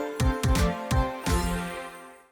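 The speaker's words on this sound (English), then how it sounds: "then bronze, then silver, then gold, which sounds like this" Gold rank-up sound effect from the Fall Guys video game: a short chiming fanfare of about five bright struck notes in quick succession, the last one ringing out and fading, clear and alone with no talking.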